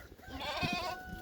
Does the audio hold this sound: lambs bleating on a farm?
yes